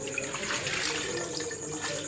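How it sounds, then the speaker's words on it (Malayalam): Water splashes steadily into a mixer jar over soaked wheat being ground for Tirunelveli halwa, a continuous soft pouring wash at low volume with no breaks and no talking. "കുറച്ച് കുറച്ച് വെള്ളം ഒഴിച്ചിട്ട് അവിടെ അരടിച്ചെടുക്കുക"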